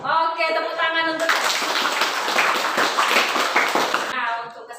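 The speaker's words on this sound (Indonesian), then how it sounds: "Oke, tepuk tangan untuk." Students in a classroom break into applause, dense hand-clapping lasting about three seconds, with a voice speaking just before and after.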